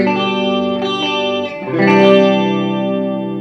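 A clean electric guitar tone plays through an amp with the EQ set at its middle position: one sustained chord rings, a brief pick scrape follows, then a second fuller chord swells and holds, with no talking.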